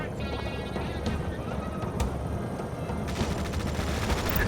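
Gunfire in the video game Tom Clancy's EndWar crackles in rapid bursts, machine-gun rattles and sharp shots layered over a low battlefield rumble, with brief radio voices.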